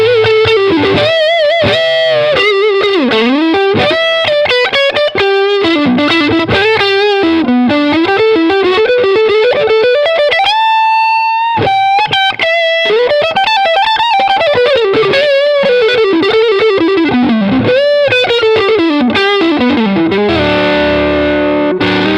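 A heavily distorted electric guitar through a fully gained MESA/Boogie Fillmore 25 tube amp plays a fast, loud lead melody with sustained bent notes and saturated, buzzy tone throughout.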